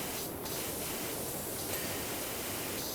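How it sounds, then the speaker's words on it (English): In the PowerWash Simulator video game, a pressure washer sprays steadily at a boat's control box, producing an even, close rushing hiss that shifts slightly in texture. "Spray from every corner that we can, every angle."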